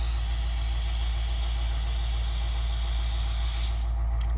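An airbrush gun sprays cleaning fluid in a continuous loud hiss with a low compressor hum beneath, steady throughout and cutting off abruptly near the end.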